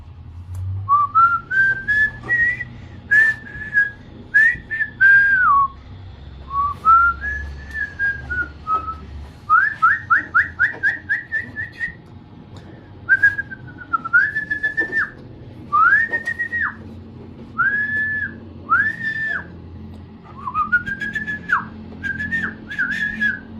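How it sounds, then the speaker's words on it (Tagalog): A pigeon calls in a repeated series of clear, rising and falling whistled notes, some in quick trills, close and loud over a low background hum, with no talking. "Tawag yung kalapati yun."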